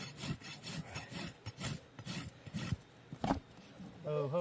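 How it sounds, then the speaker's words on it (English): Farrier's rasp filing a horse's hoof in repeated rough scraping strokes, close and fairly quiet, in an uneven rhythm, with a person speaking briefly at the end. "we're going to rasp basically till it's just barely disappearing."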